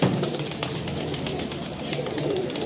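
A flock of highflyer pigeons in Lahore cooing and fluttering close by, a continuous busy murmur of soft calls and wing movement with no talk.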